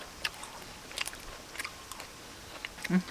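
Fresh small shrimp being chewed up close, with a steady run of soft, crisp bites and mouth sounds that builds to a slightly louder crunch near the end, with no talking.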